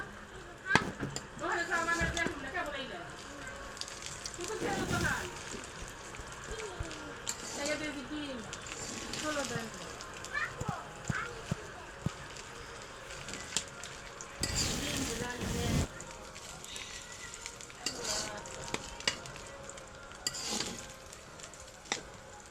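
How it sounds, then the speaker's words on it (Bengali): Food frying in an overfilled karahi, stirred slowly, with an uneven sizzle and intermittent scraping and clattering strokes, while a voice speaks at times over the cooking. "এখন ধীরে ধীরে নাড়তে হবে, না তো সবগুলো পড়ে যাবে। এইভাবে সব ভেজে নেব।"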